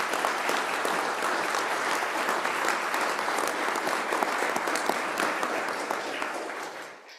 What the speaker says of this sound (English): let's all give them a round of applause for running and being willing to serve